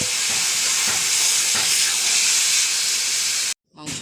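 Mutton hits a hot kadai of fried cumin and onion with a loud, continuous sizzling hiss that fills the clip, then cuts off abruptly near the end before a brief faint return.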